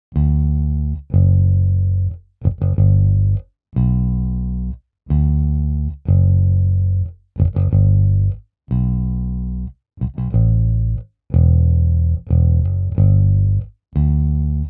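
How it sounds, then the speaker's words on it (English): Rickenbacker bass from a sampled software instrument, playing a steady line of deep, thick plucked notes with punchy attacks and short gaps, alone and upfront. "For the bass, I have used another Kontakt library called the Rickenbacker bass, and this is how it sounds."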